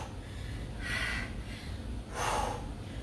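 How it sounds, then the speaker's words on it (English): During a dumbbell boot camp strength workout, someone breathes heavily, with two loud, drawn-out exhales close to the microphone separated by a short pause. "So you see, I'm breathing heavy."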